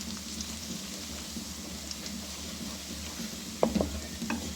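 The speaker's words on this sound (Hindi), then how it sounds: "इसको हल्का गोल्डन करेंगे कि लहसुन का कच्चापन ख़त्म हो जाए" Garlic frying in a pan until lightly golden for chane ka saag, a soft steady sizzle with faint stirring scrapes and a couple of brief louder clinks near the end.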